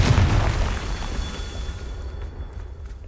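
Confringo blasting-spell explosion in Hogwarts Legacy, a loud close boom with a broad crackling burst that decays into a rumbling tail over about three seconds.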